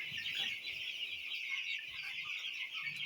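Two-week-old broiler chicks on a farm give a dense, continuous chorus of high chirping and clucking, steady and moderately loud throughout with no talk.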